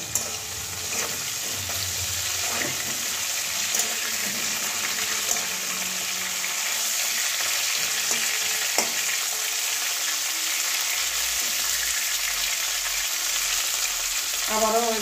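Duck eggs fry in a pan alongside cauliflower and peas, sending up a continuous close sizzle with scattered pops and crackles that hold steady throughout.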